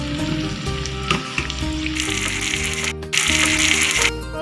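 Chicken for a Hyderabad-style fry sizzles loudly in a pan with curry leaves and coriander leaves, a dense close crackle that swells into bursts as the ingredients are added and stirred. Nobody talks.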